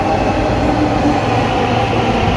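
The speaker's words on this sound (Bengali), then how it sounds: "এই চলে এসছে মেট্রো" A metro train arriving at a station: a loud, continuous low rumble, a dense steady roar with no pauses and no voices.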